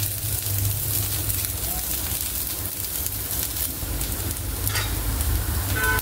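Tikki balls shallow frying in oil in an appe pan, a steady close sizzle running throughout with light scraping and stirring noises, no voices.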